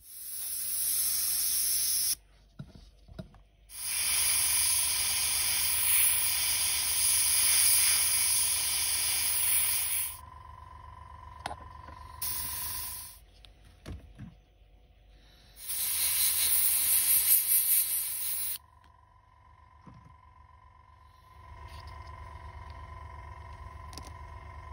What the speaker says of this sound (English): I'm not very good with the precision airbrush